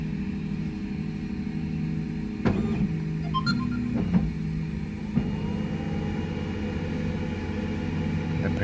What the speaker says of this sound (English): The printer is copying the file, doing some calibration, heating up if necessary, if it's not already heated, and then it will start doing its thing